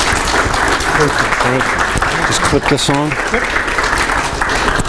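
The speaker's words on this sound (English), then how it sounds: "So let's have a round of applause" Seminar audience applause greets a guest speaker coming to the stage, with steady, fairly loud clapping running the whole time while someone talks briefly over it.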